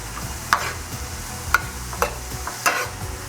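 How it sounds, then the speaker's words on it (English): Red onion sautés in warm oil in a pan: a soft frying sizzle runs throughout, punctuated by several sharp spatula scrapes and stirs roughly once a second, close and clear. "we're gonna add our red onion. And we're gonna saute this for 3 to 4 minutes until our onion is lightly browned"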